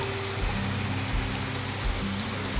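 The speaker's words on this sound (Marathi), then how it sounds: "दुसरा पाऊस आहे बघा ला जोरात पाऊस पडतोय" Heavy rain pours down in a late-October downpour, a dense, even hiss of drops hitting surfaces that stays loud and unbroken throughout, with no voices.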